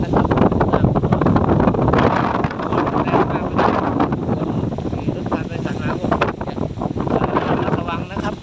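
Very strong storm wind roaring continuously and hammering the microphone with heavy buffeting rumble, loud and close throughout, with a voice partly buried beneath it.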